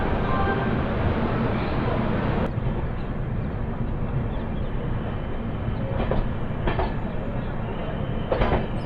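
The Palnadu Superfast Express 12747, on its first run with LHB coaches from Guntur, rolls past with a loud, steady rumble, and a few rhythmic clickety-clack wheel beats stand out over the continuous roar.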